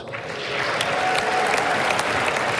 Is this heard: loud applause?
yes